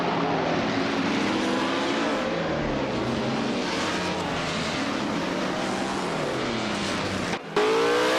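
Vintage race cars, including a 1960s-era car, launching off the line at Circuit Gilles Villeneuve Retro in a racing game: a loud, sustained chorus of revving engines with rising and falling pitch sweeps, then a brief dropout near the end.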